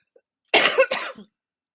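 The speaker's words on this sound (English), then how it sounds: "My cough's getting much better now." A single close, moderately loud cough in two quick bursts from a woman hosting a live psychic cafe reading, preceded and followed by silence.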